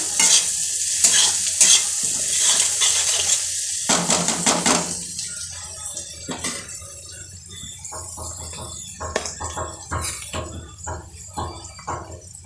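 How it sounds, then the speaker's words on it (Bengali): Onions frying in oil in a pan while being stirred for a curry: a steady close sizzle with repeated scraping strokes and occasional knocks of the utensil against the pan, with no talking. "দিয়ে পেঁয়াজটা একটু লাল লাল করে ভাজা ভাজা হবে"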